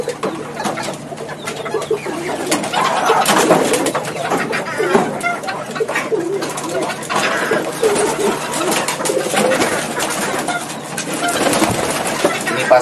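Turtle doves and their chicks in an aviary cooing and calling in a steady, continuous chorus, with scattered chirps over a constant background murmur.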